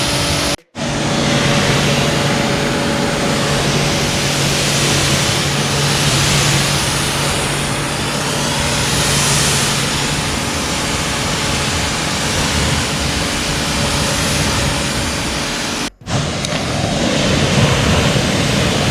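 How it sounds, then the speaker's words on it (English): Water spray from a pressure washer rinsing soap off a 2019 Camaro SS, a loud continuous hiss close by with two brief cutoffs where the trigger is released. "so now I'm gonna rinse it off"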